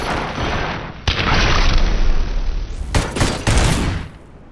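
Heavy gunfire rattles in RoboCop Rogue City, a dense fusillade of shots and booming blasts running almost continuously, loud and close, with a short break before a final flurry of bursts.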